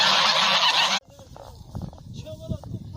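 Domestic geese kept in a lake-rich rural steppe area honk loudly after a burst of rushing wind, with several nasal calls at close range.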